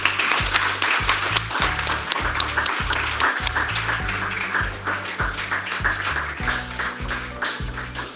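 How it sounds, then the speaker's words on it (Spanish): An audience applauds to welcome a sociology lecturer at a conference on global migration, dense clapping sustained throughout over a low, steady musical tone. "vamos a darle un aplauso"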